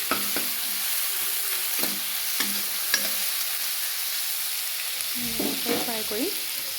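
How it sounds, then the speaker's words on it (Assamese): A steady hiss of onion and ginger-garlic paste frying in a pan, with occasional scrapes and clinks of stirring. No one speaks. "সেইখিনি অলপ দেৰি ভাজিম, আমলৰি বন নোহোৱালৈকে"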